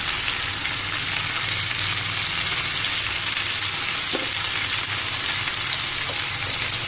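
Chicken curry with spices sautéing in a pan, a steady, close hiss and sizzle throughout, with a faint clink or two from stirring.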